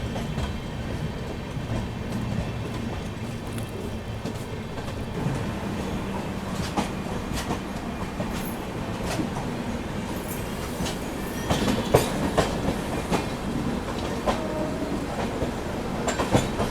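An Amrit Bharat Express running from Delhi to Gaya gives a continuous rumble on the rails, with faint clickety-clack and occasional squeals that grow louder toward the end, heard alone without talk.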